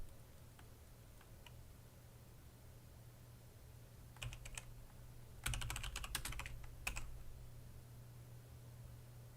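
Someone types on a computer keyboard in a quiet room, with brief bursts of rapid clicking keystrokes, the densest burst in the middle and a few isolated taps after, over a low steady hum.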